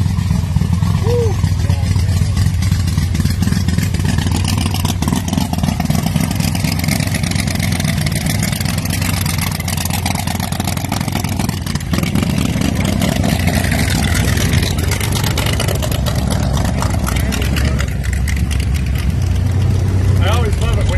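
A modified Mustang Cobra engine and exhaust roar steadily from inside the car while driving, a loud continuous rumble with revving swells, with voices talking over it.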